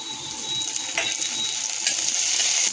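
Garlic and green chillies sauté in a kadhai, a continuous bright, hissing sizzle heard up close, with a couple of faint stirring clicks and no voices.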